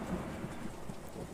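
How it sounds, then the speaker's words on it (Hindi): Faint, steady rain with a low distant thunder rumble, a continuous dim thunderstorm wash with soft patters and no distinct sharp cracks. "तूफ़ान अभी थमा नहीं था।"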